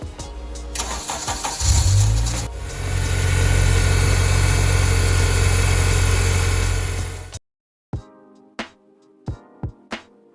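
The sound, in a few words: Honda Civic engine starting and idling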